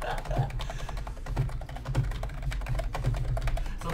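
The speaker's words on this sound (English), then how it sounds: "Sorry, I have to type that." Quick, steady clatter of keys being typed on a computer keyboard, close and fairly loud, continuing throughout with no speech over it.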